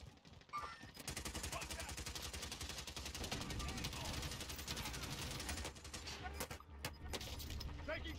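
Sustained rapid automatic gunfire rattles loudly for most of the stretch in Call of Duty Warzone, a dense burst of machine-gun fire that briefly breaks and resumes near the end.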